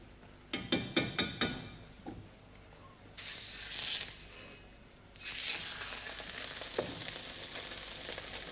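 Vegetables brown in olive oil in a pan: a few sharp clatters of utensils against the pan come first, then soft sizzling swells in two longer stretches, faint and close.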